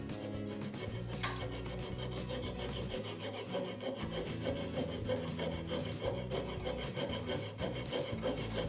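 A handsaw cuts through glued wood on a broken turned lid for a kitchen pail, a steady close rasping stroke rhythm sounding alone throughout.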